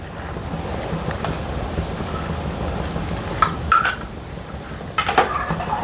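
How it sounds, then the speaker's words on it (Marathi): Powdered sugar stirred into a chocolate dry fruit mixture for no-bake laddoos, a spoon scraping and clinking against a bowl in a few sharp close knocks over a soft rustling background, with no talk. "याला चांगलं मिक्स करून घ्यायचं"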